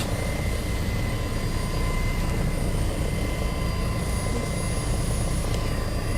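A T129 ATAK attack helicopter in flight produces a steady, loud rotor and engine drone that fills the whole clip without letup.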